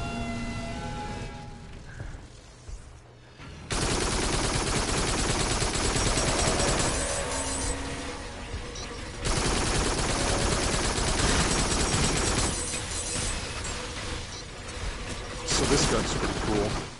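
Gun firing in the VR shooter game Farpoint, long loud bursts of rapid automatic fire broken by short pauses, close and harsh, with voices talking between and over the shots.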